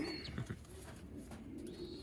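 Soft cooing from racing pigeons in a one-loft race loft, faint and close with a couple of low coos and a light chirp against quiet room tone.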